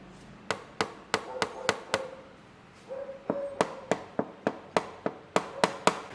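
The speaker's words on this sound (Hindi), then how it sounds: "उसका जो टैंक है तो वो बहुत आवाज़ करता है" A Bajaj Dominar motorcycle fuel tank gives sharp, close, metallic knocks in two runs of evenly spaced raps, about fifteen in all. A short quiet pause separates the runs.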